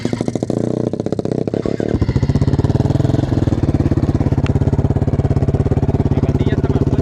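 A KTM 530 EXC dirt bike with a rebuilt engine, its single-cylinder thump idling close by, settling after a brief blip into a steady rapid pulse, with a voice briefly heard.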